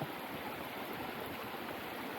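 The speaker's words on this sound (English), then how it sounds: "It's like a semi-waterfall." A small natural brook spills over rocks in a semi-waterfall, giving a steady, close rushing and splashing wash of water that holds even throughout, with no voices.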